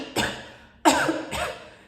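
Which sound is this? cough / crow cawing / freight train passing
cough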